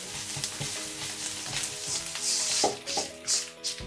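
Garam masala powder stirred into a sizzling onion-tomato masala for Kerala-style chicken curry, a steady close fry with repeated scraping stir strokes and a few louder clinks of the spoon against the pan.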